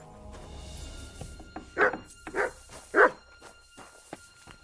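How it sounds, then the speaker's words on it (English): A dog in the video game Kingdom Come: Deliverance II barks three times in quick succession at moderate distance, with a few quieter sounds and footsteps in the background. "What are you barking at?"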